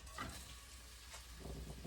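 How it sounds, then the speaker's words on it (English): Ground chicken sizzles in a pan with a soft, steady crackle and a few brief stirring scrapes, close but fairly quiet. "So I'm going to cook my ground chicken here."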